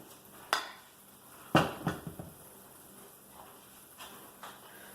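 A utensil scoops egg-free pancake batter into a pan, making a few sharp metallic clinks and scrapes close by against a quiet background, with no talking.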